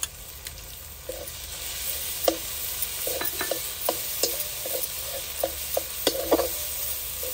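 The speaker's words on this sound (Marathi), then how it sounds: "आता आपण त्याच्यात तीळ खोबरं हे कुटलेलं त्याचं वाटण टाकून घेऊ." Ground sesame and coconut masala paste being stirred and sautéed in a pan after chillies and garlic, with a steady low sizzle under repeated scraping and stirring clicks, close by and alone.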